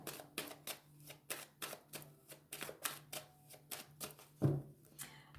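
Tarot cards being cut and handled at a reading table, a series of soft, quick papery taps and flicks in an uneven rhythm, close and fairly quiet, with no talking.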